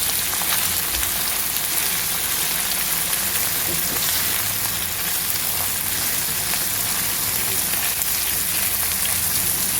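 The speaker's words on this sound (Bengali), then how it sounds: "সুন্দরভাবে ভাইজা নিব।" Small chanda fish frying in a pan of hot oil give a continuous, even crackle and hiss, close and unbroken, with no speech.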